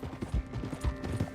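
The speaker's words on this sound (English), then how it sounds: "Get a hold of that horse, will you?" Horse hooves clip-clop in the Red Dead Redemption 2 video game, a quick uneven run of hoofbeats heard up close over a low ambient background.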